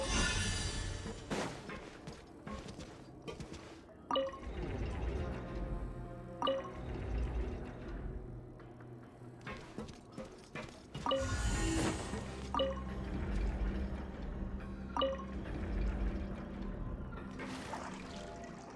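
Water surges and drips as the level rises in a Genshin Impact-style game chamber after a stuck mechanism, with steady liquid pouring and filling sounds over layered background music and occasional sharp clanks.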